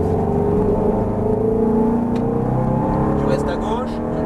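A Ferrari F430 engine drones steadily on a circuit under light throttle, a close, loud, even hum heard from inside the car, with a voice talking over it.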